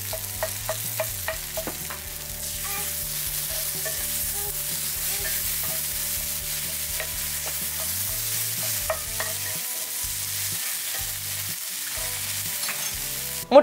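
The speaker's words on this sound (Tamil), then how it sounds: "முட்டையை நல்லா வேக வச்சதுக்கு அப்புறமா இந்த வெங்காயத்தோட மிக்ஸ் பண்ணிக்கலாம்" Eggs and onions fry in a pan for egg rice, with a constant sizzle under repeated scraping and stirring strokes of a spatula that are close and distinct, and no one speaking.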